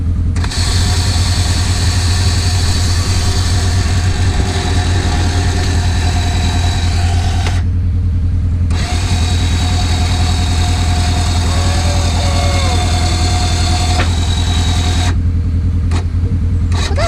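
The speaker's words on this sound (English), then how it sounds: "So we're gonna engage the winch." A Warn AXON 55-S winch reels in on a 2017 Polaris RZR, a loud, steady motor drone that runs continuously and cuts out briefly twice.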